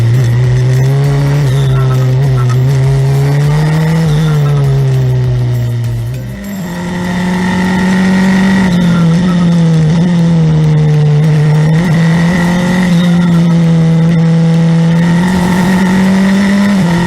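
An F4 single-seater race car screams under hard acceleration on a night street circuit, its high-pitched engine note climbing steadily through the gears with a brief dip at a shift, loud and close throughout.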